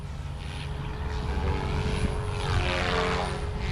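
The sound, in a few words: RC helicopter rotor spooling up at idle up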